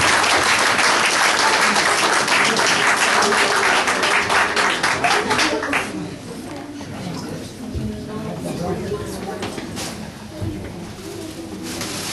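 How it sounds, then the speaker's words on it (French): Loud, dense crowd applause at a garden gathering, thinning noticeably about halfway through, after which scattered claps continue under voices and soft background murmur. "C'est moi qui vous applaudis."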